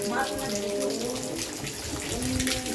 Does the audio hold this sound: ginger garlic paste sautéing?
no